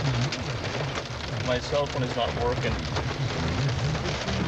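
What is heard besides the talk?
hail coming down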